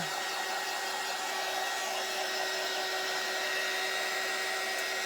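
A hair dryer blows on a painted gnome craft piece, a steady even whine running close and unbroken from start to finish, with no voices.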